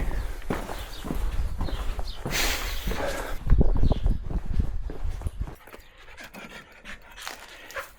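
A dog at a house in Calabria, southern Italy, pants close by in quick, rhythmic breaths mixed with shuffling steps and movement, then quiets and grows fainter toward the end.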